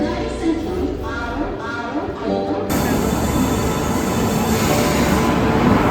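A train at a railway station platform gives a steady, loud rumble and rattle that swells sharply partway through, with voices in the background.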